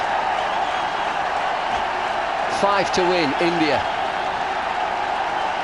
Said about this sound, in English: Everybody on the feet, dancing, cheering, smiling because of that.